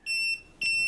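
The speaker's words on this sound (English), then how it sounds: "When you find the neutral, it will still beep but at a different rate" A Kaiweets non-contact voltage tester gives two short, loud electronic beeps in quick succession, each a sharp high tone, with nothing else heard.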